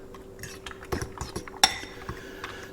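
Chocolate chunks being stirred into chaffle batter in a bowl, a quick run of close clinking and scraping taps with one sharp bright clink in the middle, no talking.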